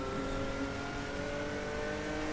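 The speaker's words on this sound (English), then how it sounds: "Now we're full throttle." Stock car engine at full throttle in the Stock Car Extreme racing game, a steady high-pitched mechanical drone with rising harmonic whine, loud and continuous with no talk over it.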